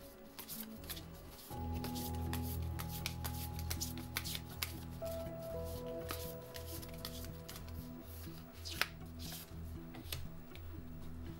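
Tarot cards are shuffled by hand in a quick steady riffle of crisp papery flicks. The shuffling runs almost continuously at close range under a low background hum, with no talking.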